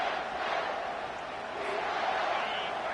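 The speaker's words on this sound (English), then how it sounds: "This crowd, full throat, splitting the eardrums" A large stadium crowd roars in College Football 25 between plays, a steady, dense wall of cheering and shouting that stays loud and unbroken throughout.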